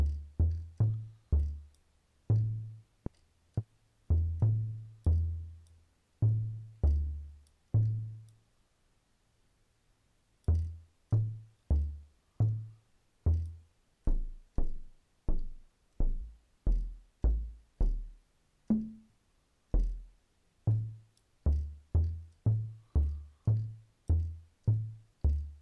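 Synthesized kick drum from a Thor synth with its filter being adjusted, a steady series of short, punchy low thumps that change tone over time, with a brief pause partway through and no speech.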